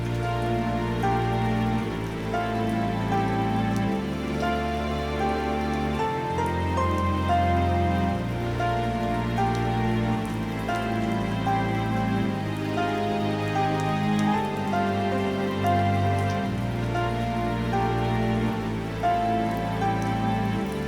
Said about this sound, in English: We had another empty forest. This one had rain.